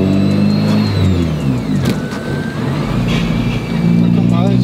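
A Honda car driven on the road: a steady engine drone rises and falls in pitch as it accelerates and shifts, loud and close from inside the cabin, with people talking over it.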